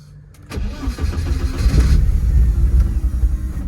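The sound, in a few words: car engine starting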